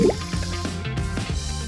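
Hot water pours and drips into a container for melting ice cream, a close series of small splashes and plops with no talk.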